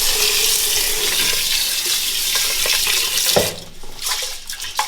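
Tap water runs steadily into a pot to rinse rice in a home kitchen, a continuous close splashing stream that stops near the end, leaving a few faint clinks.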